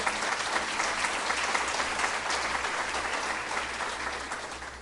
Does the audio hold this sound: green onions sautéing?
no